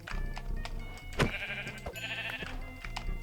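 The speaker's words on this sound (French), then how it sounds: "Désolé, petit mouton." Sheep bleat repeatedly in the Minecraft video game, several wavering calls close by over a steady background with a sharp hit in the middle and no talking.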